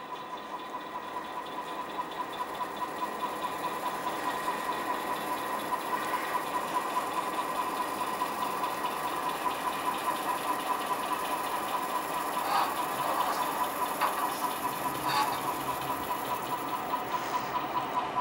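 A model DCC locomotive, a roughly 40-year-old DC engine converted to DCC, runs steadily along the track back into the yard. A continuous low mechanical whir and hum holds throughout, with a few faint clicks near the end and no talking.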